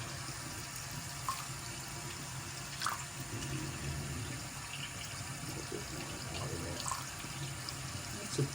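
Tap water runs steadily into a bottle, a soft continuous hiss with faint splashing and occasional small clinks, fairly quiet and close.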